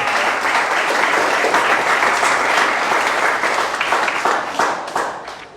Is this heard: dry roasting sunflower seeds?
no